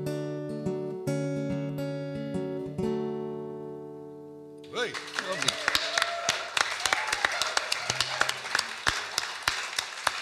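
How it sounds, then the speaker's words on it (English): Applause from a theatre audience at a live folk concert breaks out right after a sustained guitar and vocal song ends, a dense crowd of clapping filling the rest of the moment at moderate loudness. "Not too much applause."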